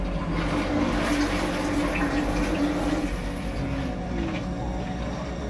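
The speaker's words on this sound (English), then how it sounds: "turn the water back on" Water streams steadily from a tap in a bathroom, a close, even rush that holds without a break throughout.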